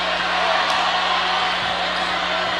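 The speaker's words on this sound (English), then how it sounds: "The crowd's on their feet." A high-school basketball crowd in a packed gym cheers on its feet after a tying three-pointer, a dense, loud roar of voices that holds steady and close throughout.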